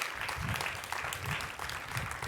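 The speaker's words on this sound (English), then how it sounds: "Please now, a round of applause for everybody." Graduates at a 2021 commencement ceremony get a sustained round of applause from a crowd, steady clapping that fills the whole moment without a break.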